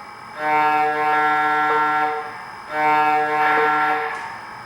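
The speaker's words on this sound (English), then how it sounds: "Or with the air horn if we prefer." An O scale Southern Pacific AC-12 model locomotive sounds its air horn twice, each chord-like blast held about two seconds, near and clear with no voices.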